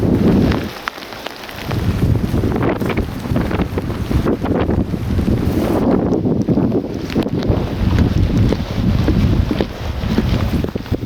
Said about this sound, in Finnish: hirveä tuuli